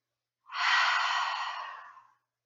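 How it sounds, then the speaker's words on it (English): A single deep, breathy exhale during a guided meditation rises quickly, then tapers away smoothly for almost two seconds, close and alone against near silence. "Deep breath out."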